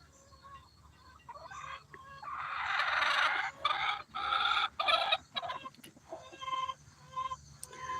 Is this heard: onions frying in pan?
no